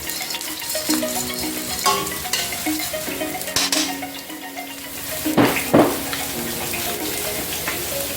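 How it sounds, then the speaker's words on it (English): Vegetables sautéing in a pan for Jamaican escovitch fish, a steady sizzle broken by scraping and stirring clatters, with a couple of sharper knocks of a utensil against the pan. "Sautéing the vegetables then."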